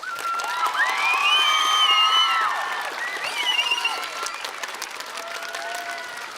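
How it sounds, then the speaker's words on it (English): An audience at a choral festival concert applauds with scattered cheers and whoops rising over the clapping, the sound swelling early and then settling into steady, moderately close applause. "I just want to offer her an extra round of applause tonight."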